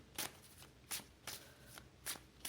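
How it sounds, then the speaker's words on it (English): A tarot deck is shuffled and cut by hand, giving four or five quick, soft riffling bursts that are close and quiet, with brief pauses between them and no talking. "So you shuffle and cut the deck"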